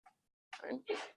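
A single sharp sneeze bursts out in a university statistics lecture hall, followed at once by a brief spoken word from a person nearby.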